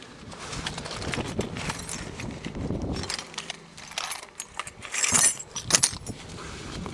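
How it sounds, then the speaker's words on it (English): A bunch of car keys jangling close by, a series of irregular metallic clinks and rattles with brighter jingles near the end, with no talk. "Keys and keys"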